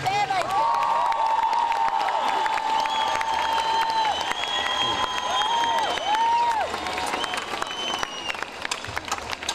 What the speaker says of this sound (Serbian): Možda veliki aplauz